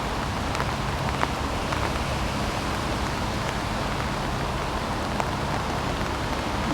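Steady rain falls in a nature reserve north of Chestnut in Singapore, a soft, constant hiss with occasional louder drops pattering nearby and no voices.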